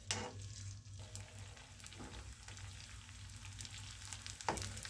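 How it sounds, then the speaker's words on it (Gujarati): Edible gum (gond) frying in homemade ghee in a kadai over a medium flame, giving a steady, close sizzle and crackle with occasional stirring scrapes throughout. "હવે આપણે લીધેલા ગુંદને થોડો થોડો કરીને તળી લેવાનો છે."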